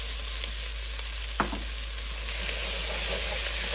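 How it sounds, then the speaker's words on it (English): Butter sizzling over sautéed vegetables in a pan where fond has formed, a steady close hiss with one brief clink, no voices. "Now that we've sauteed, we're going to add 4 ounces of butter"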